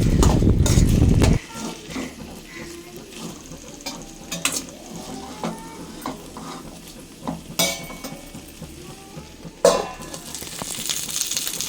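Drumstick (moringa) leaves frying in a pan for a Telugu-style fry, a loud sizzle and stirring scrape at the start, then a softer steady crackle with occasional clinks of the utensil against the pan.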